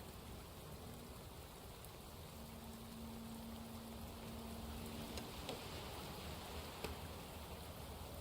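Night rain in a detective video game falls as a soft, steady hiss of droplets, continuous and faint, with a low hum in the background and occasional faint ticks.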